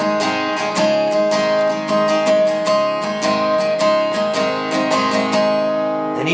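Electric or acoustic guitar strumming barre chords starting on C for the bridge of a song, steady rhythmic strums with bright attacks, loud and close, with no talking.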